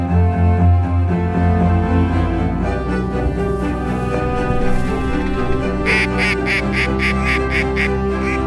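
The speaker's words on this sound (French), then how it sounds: "C'est quand même incroyable la diversité de canards qu'on voit ici." Several ducks quack on a wetland conservation island, with bursts of calls overlapping a steady outdoor background and growing busier and more insistent toward the end.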